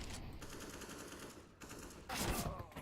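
Rapid automatic M4 rifle fire in a Counter-Strike esports match, steady bursts of rattling shots with a louder, closer burst near the end, heard without speech.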